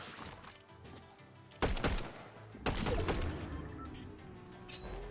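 Gunfire in the Fortnite video game, with two sharp, loud bursts of shots cutting through a quieter background.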